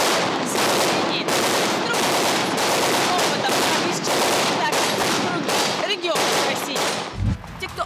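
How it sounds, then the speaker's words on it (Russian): Gunfire at a special forces university training range in Gudermes, Chechnya: dense, continuous bursts of rapid shots, loud and close, rolling without pause for about eight seconds with only a brief lull near the end. "вместо привычных звонков на пары раздается стрельба"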